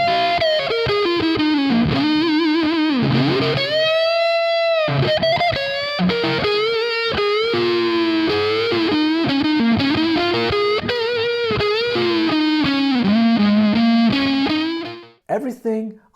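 Distorted electric guitar with a delay effect plays a sustained melodic line in a blues style, notes ringing and repeating as echoes trail behind them, loud and continuous before cutting off near the end.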